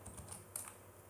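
Quiet computer keyboard typing while code is entered into a Unity C# script, a short run of soft key clicks with one slightly sharper tap, alone with no speech.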